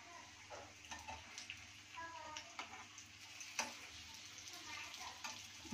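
Paratha chicken sukha cooking slowly on a low flame in a pan, giving a soft, faint sizzle with scattered light clicks and scrapes throughout.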